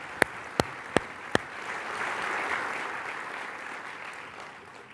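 An audience at the Opticon keynote applauds the event sponsors, beginning with four sharp, isolated claps before a broad wave of clapping swells and gradually fades.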